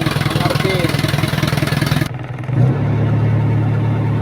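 A Hino 300 fuel tanker truck's diesel engine with low power, revving steadily with a rough pulsing drone, then briefly dropping before settling into a loud, even, lower hum that tops out near 1,000 RPM.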